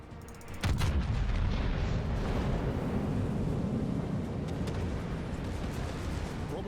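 Warship main guns firing in the naval combat video game World of Warships: a sudden deep blast followed by a long, sustained low rumbling roar that slowly fades.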